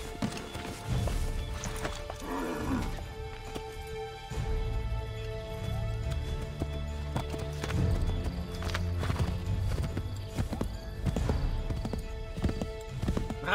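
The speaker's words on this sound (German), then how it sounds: "Steig wieder aufs Pferd" Horse hooves clip-clop steadily in the Assassin's Creed 3 video game, with a whinny near the start and soft game ambience and thuds around the galloping, no one speaking.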